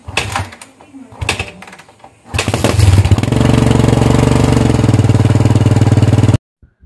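A few starter attempts give way to a Kawasaki Barako 175 motorcycle engine idling, a steady, close, rapid putter that runs on until it suddenly stops.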